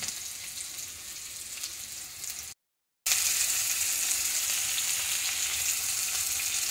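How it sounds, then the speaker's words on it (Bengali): Constant crackling sizzle of onions and green chillies frying in a pan until brown, for a bata fish curry, close and even, briefly cut to silence midway before resuming. "যতক্ষণ না ব্রাউন হচ্ছে পেঁয়াজগুলোকে ভেজে যাবো।"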